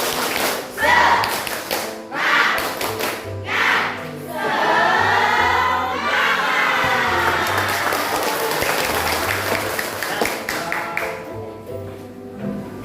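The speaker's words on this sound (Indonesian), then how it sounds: "Sekali lagi, tepuk semangat." Students in a classroom geography lesson clap a rhythmic spirit cheer, starting as spaced, patterned bursts and then swelling into dense, loud clapping, with some voices mixed in.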